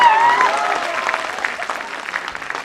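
An audience applauds after a poetry recitation, a burst of crowd clapping that begins with a voice trailing off and fades gradually over a few seconds.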